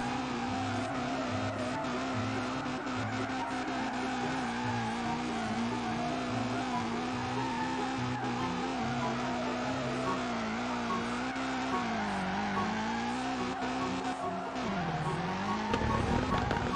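A small modded car sliding sideways in FR Legends, engine droning steadily with sustained tire squeal and shifting revs throughout a long continuous drift.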